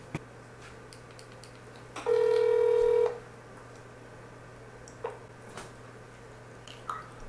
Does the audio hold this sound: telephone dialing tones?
yes